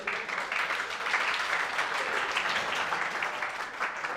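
Members of parliament applaud together in the chamber, a continuous, even patter of many hands clapping at moderate volume with no clear talk over it.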